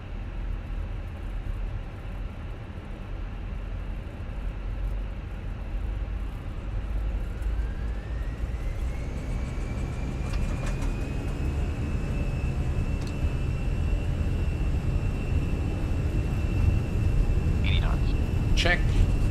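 Fenix A320 airliner engines spooling up during the takeoff roll in Microsoft Flight Simulator 2020, a steady low roar building in strength with a rising whine settling into a sustained tone, with radio voices heard over it.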